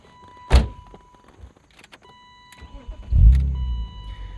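Someone gets into a car, with a door thunk and brief shuffling, and then the engine cranks and catches into a low, rumbling idle nearby.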